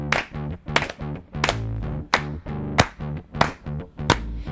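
Hands clap in a steady rhythmic beat during a live band performance on a radio show, sharp close claps repeating alongside music.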